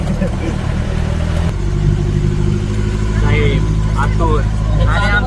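A vehicle engine runs steadily at close range through a rainy-season village outing, a low continuous hum under several people talking.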